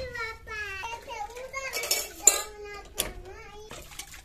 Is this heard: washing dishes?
yes